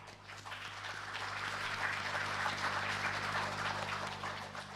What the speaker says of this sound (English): Shall we first give him a round of applause in our usual way of thanking?